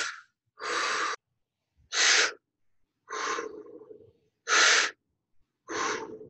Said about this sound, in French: on va inspirer soit par le nez ou par la bouche